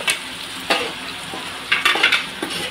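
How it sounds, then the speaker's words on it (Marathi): Onion paste sautéed in a pan with steady sizzling and repeated spatula scrapes and stirs in irregular bursts, close and fairly loud, with no talking. "इकडे बाजूला कांद्याची पेस्ट सुद्धा तयार करून घेतली आहे, ती पण टाकायची"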